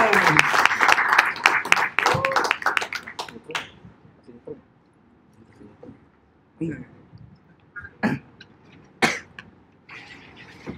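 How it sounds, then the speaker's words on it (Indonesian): An audience gives lively applause welcoming a speaker to the stage. The clapping is dense for about three seconds, then thins into scattered claps, coughs and a few stray sounds. "Tepuk tangan yang meriah buat Wendy Perdana Putra."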